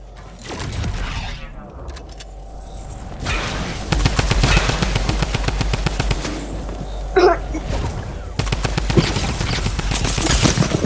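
Gunfire in the Fortnite video game plays as long rapid bursts of automatic shots, loud and close, with brief pauses between volleys.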